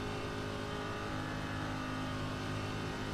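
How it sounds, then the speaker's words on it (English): A race car with a Roush Yates engine in a racing video game drones at a steady, sustained pitch, moderately quiet and continuous, with no talking. "this Roush Yates engine, I know is going to make it"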